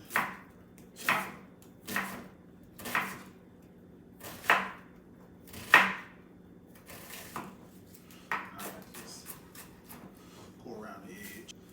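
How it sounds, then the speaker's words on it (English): Knife chops through Italian parsley on a board for pasta sauce, about eight crisp, evenly spaced strikes, close and clear, then softer, quicker cuts and light rolling rustle as the bunch is gathered. "And we just go ahead and chop."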